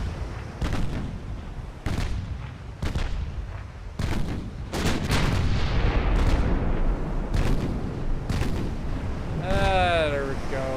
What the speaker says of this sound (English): Our secondaries are officially kicking off now.